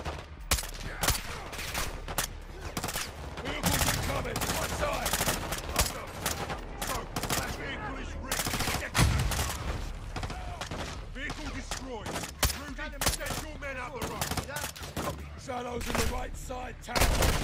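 Sustained gunfire fills a Call of Duty Modern Warfare 2 firefight: dense bursts of automatic weapons and scattered single shots crack continuously, loud and close, with voices talking and shouting over the battle.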